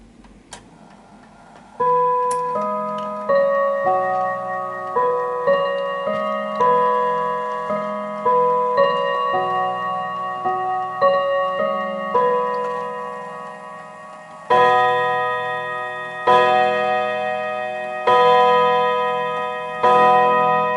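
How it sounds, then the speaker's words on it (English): An antique Enfield mantel clock by James Walker Ltd strikes the Westminster hourly chime, the sequence of clear bell-like notes played slowly in groups, then a series of separate, louder ringing hour strikes, each decaying, close and alone. "So that's the 4 o'clock chime, yeah? And you've heard the whole Westminster chime"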